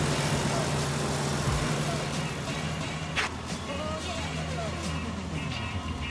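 Car engine idling with lifter tick and belt chatter, a steady low rumble carrying a fine rapid ticking and some squeaky chatter, close up and continuous, with someone talking over it.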